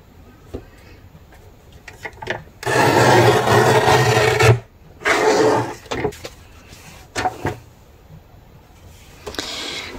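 Scissors cut through velvet paper for a scrapbooking project in bursts of close, scratchy rasping strokes, with a long stroke, a shorter one and several quick snips between quiet gaps.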